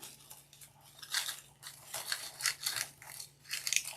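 Cutters snipping off the excess of a zip tie on a grapevine fall berry wreath, several close, crisp clipping and crunching sounds in an irregular rhythm, with no talking.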